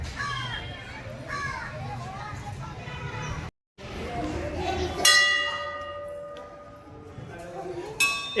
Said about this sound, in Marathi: त्याच्याकडून पण वाजव ना बेल.